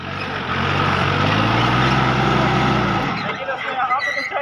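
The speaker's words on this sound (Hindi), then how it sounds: "तो यहाँ पे तो इतना गड्ढा था फिर भी चढ़ गया हमारा ट्रैक्टर" A Sonalika GardenTrac DI 20 mini tractor engine labors loud and close as it climbs out of a muddy pit, its droning pitch rising then cutting off, followed by voices talking.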